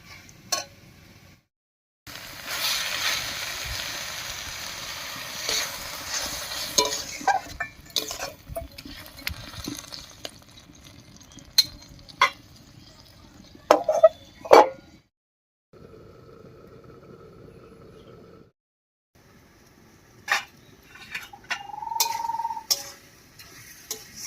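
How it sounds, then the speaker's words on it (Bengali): Banana flower curry cooks in a pot with spice paste and water, heard as scattered clinks, taps and scraping stirs of a utensil against the pot, with quiet pauses and a short simmering hiss between them. "এবারে একটুখানি মশলা বাটা জল দিয়ে ঢাকা দিয়ে দিয়ে রান্না করে নেবো"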